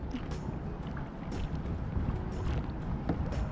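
Kayak paddling beneath a road bridge: a steady wash of water and wind noise with faint paddle splashes spread through, continuous and fairly close, with no talking.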